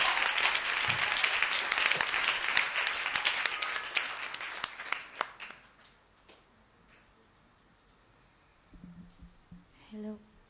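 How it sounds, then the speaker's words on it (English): An audience at a high school debate contest gives a dense round of applause that tapers off after about five seconds, leaving near silence and then faint voices. "please welcome them with a round of applause"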